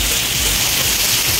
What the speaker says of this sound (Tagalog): Umapatak na naman ang ulan sa bubong ng bahay.